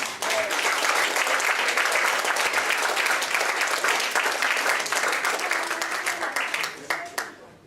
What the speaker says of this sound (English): I ask you to give a big round of applause for our new patron, Mrs. Elizabeth Collins.